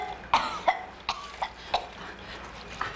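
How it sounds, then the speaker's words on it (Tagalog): Several sharp coughs in a row, fairly close and moderately loud, with short pauses between them and no talking. "Ano ba yung ubo mo, ha?"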